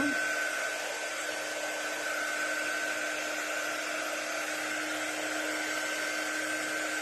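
Hair dryer blowing on a painted wood shiplap background, a continuous loud, even whoosh with a steady motor whine that holds unchanged from start to finish.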